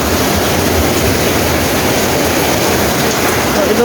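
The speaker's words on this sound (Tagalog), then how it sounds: "At sobrang lakas. Umaambi na." Heavy typhoon rain pours in Taiwan as a loud, unbroken roar of water drumming on surfaces, close and dense with no letup.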